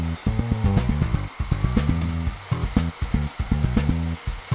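A centrifugal supercharger compressor on a test rig spins above 100,000 RPM, giving a thin, high, steady whine over a throbbing, pulsing low mechanical drone, loud and close with no talking.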